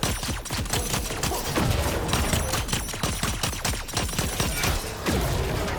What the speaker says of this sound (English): So we're going to do more damage with the plasma pistols on him.